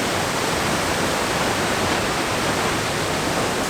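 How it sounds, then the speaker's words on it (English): A North Carolina waterfall gushing heavily, a dense, loud, unbroken roar of falling water close by with no talk. "I ain't never seen a waterfall gushing like this"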